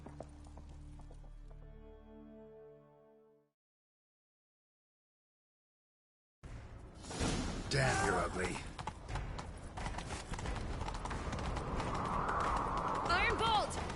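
After a brief musical passage and silence, galloping hoofbeats from a horse in The Witcher 3 thud steadily, with voices speaking over the ride.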